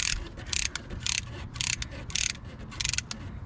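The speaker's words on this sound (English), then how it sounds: "We need to compress the piston just like we did the last one." Brake caliper piston being compressed on a 1998–2001 Toyota Camry during a brake and rotor job, giving a run of bright, rapid ratcheting clicks in short bursts, close and fairly loud with no talk.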